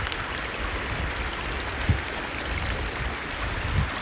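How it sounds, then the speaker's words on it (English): Creek water at High Creek near San Gorgonio runs in a steady, close wash with no speech, a couple of brief low thumps breaking the even flow. "The water is flowing okay right now."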